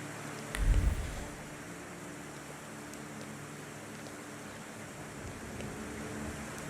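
Light, steady drizzle in the video game The Thaumaturge, a soft even hiss of rain throughout, with one dull low thump near the start.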